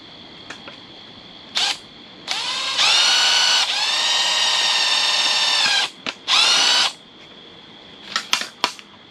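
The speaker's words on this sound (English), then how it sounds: "Got the second hole drilled." A cordless drill bores a hole in a car for an AEM wideband air-fuel ratio gauge install, with short trigger blips, then a sustained whine of a few seconds and another burst, loud and close.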